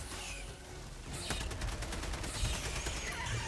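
A sentry turret firing in the Helldivers 2 video game: rapid bursts of automatic gunfire crackling at mid distance, growing denser after the first second and continuing without letup, with no voices.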